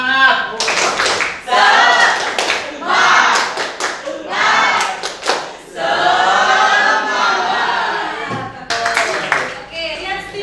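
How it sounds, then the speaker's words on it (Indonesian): An Indonesian chemistry classroom of students does the tepuk semangat, a rhythmic group clapping chant. Loud, patterned claps alternate with shouted chanting voices in close, energetic bursts. "Kalau mau semangat berarti kita tepuk semangat dulu ya"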